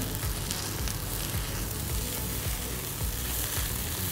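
Spinach seasoned with salt and pepper sizzles in a hot pan while being stirred, a dense continuous crackle with soft scraping, close and steady, no voices.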